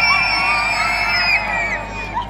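A large crowd at an outdoor cinema in a town square cheers, whoops and screams with high voices, a loud sustained roar of many people, children among them, that eases slightly toward the end.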